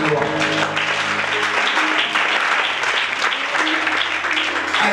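An audience at a church diploma ceremony applauds steadily for several seconds, a dense wash of clapping close and loud, with faint voices and a sustained musical tone underneath.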